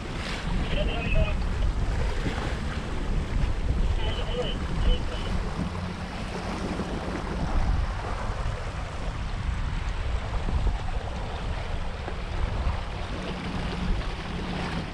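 Sailboat moving under sail along a coastal passage near Pulau Pisang, with steady broadband wash of water and wind rushing across the microphone, continuous and fairly loud throughout with no clear talk.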